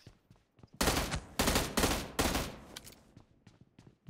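Rapid bursts of video game gunfire from BGMI, a mobile battle royale shooter, crack out in four loud, closely spaced volleys, with quieter scattered shots before and after.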